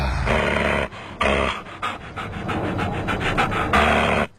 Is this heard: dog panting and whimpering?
yes